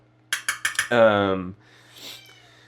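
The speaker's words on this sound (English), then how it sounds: "I hope you guys can hear my cat because it's amazing how much he's screaming at me right now." A cat lets out several short, sharp meows in quick succession, then one long, loud drawn-out yowl, followed by a fainter call.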